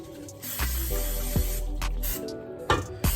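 Several short hissing bursts of aerosol cooking spray greasing a banana bread baking pan, close by, over a low background hum, with a couple of sharp clicks between sprays.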